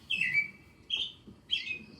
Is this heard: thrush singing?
yes